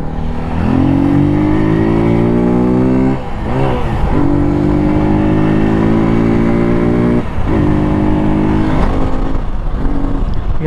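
A Hero Xpulse 200 motorcycle engine on a test ride near Jaipur, loud and close, revs up steadily through the gears with rising pitch and brief shift breaks, and no talking.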